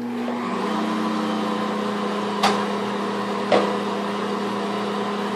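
An AO stand mixer beats cream cheese batter with a steady, even motor hum and whir from start to finish, broken by two brief sharp knocks.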